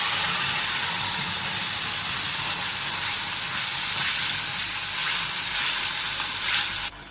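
Ground gravy paste for paneer tikka masala hits hot oil with cumin, sizzling loudly and continuously with a close, hissing crackle, and no talking.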